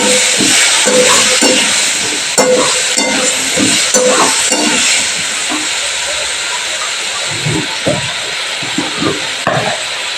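Fried potatoes sautéing in a pan with ginger-chili paste and cumin powder, a steady loud hiss and sizzle with scattered stirring clatters throughout.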